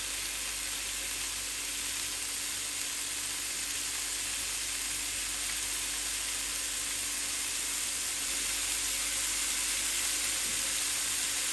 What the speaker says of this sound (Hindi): ये देखिए फ्रेंड्स, मैंने अब ग्रिल पे रख दिया है, तो बस इंशाल्लाह इसको ग्रिल होते रहेंगे।